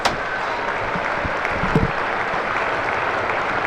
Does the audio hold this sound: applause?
yes